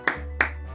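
Two sharp hand claps, close and clearly separated by a short pause, ring over a low steady background hum.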